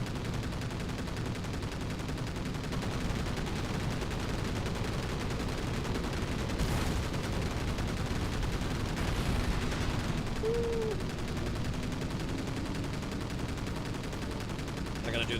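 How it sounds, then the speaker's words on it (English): Aircraft strafing gunfire in Battlestations: Pacific, a continuous rattling barrage under a steady engine drone, with a couple of louder bursts midway. "Oh, I'm strafing."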